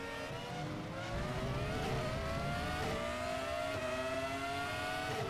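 A well-tuned V10 race car engine in Raceroom roars loud and close, revving steadily upward through the gears on a long straight with sustained rising tones.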